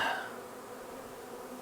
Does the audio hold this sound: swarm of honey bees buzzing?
yes